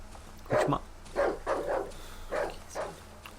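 A dog barks in the survival horror video game Darkwood, a series of five or so moderately loud, evenly spaced barks over a low background hum.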